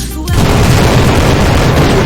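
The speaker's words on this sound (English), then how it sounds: "explosions actually have less of an effect on her than this." A powerful weapon in the video game Garry's Mod fires with a loud, sudden boom that erupts after a brief quiet moment and sustains as a heavy, roaring blast.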